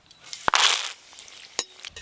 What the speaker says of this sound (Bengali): এবার কারি পাতা আর শুকনো লঙ্কা ভেজে নেব।